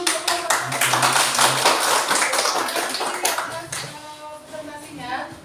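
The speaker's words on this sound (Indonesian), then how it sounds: "Ya, tepuk tangan dulu untuk" A classroom audience claps after a presentation, a short burst of scattered hand claps that fades as a voice begins speaking over the end.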